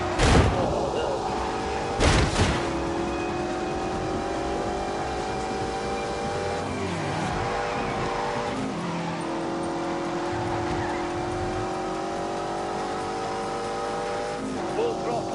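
A racing car's engine in The Grand Tour Game on PS4 revs hard at full throttle, a loud steady drone with rising pitch through gear changes, broken by a couple of sharp impacts near the start.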